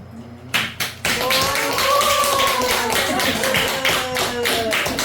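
Audience members at a Buddhist temple dharma talk clap along: a few sharp taps at first, then sustained clapping under a continuous chanting or speaking voice that carries throughout.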